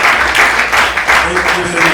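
Audience applause at a Kenyatta University nursing students' dinner and prom night at Maple Inn Hotel, a steady, dense clatter of clapping filling the room for two seconds with a bit of chatter beneath.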